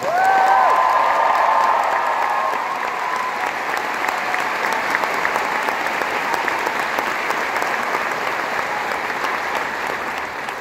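A large concert crowd at the Liverpool Empire gives loud, sustained applause and cheers for the orchestra at a Disney concert. A few whistles rise at the start, and the dense clapping holds steady to the end.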